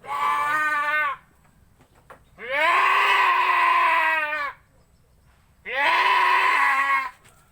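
A goat receiving an injection bleats loudly and close by, three long wavering cries separated by short pauses.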